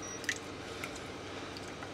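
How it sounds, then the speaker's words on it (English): A creamy sauce being poured over layered scalloped potatoes with dill and Parmesan: soft, faint wet squishing and dripping with a couple of small splats, close by and without talk. "I'm going to just pour the remaining sauce over the potatoes"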